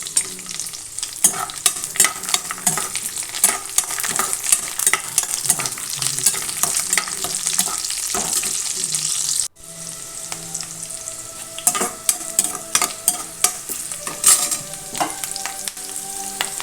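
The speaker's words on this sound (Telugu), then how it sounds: "పచ్చిమిరపకాయలు వేసుకుంటున్నాను." Green chillies and curry leaves crackle in hot oil with a busy, close sizzle and frequent stirring scrapes, the tone shifting after a brief pause midway as frying continues without speech.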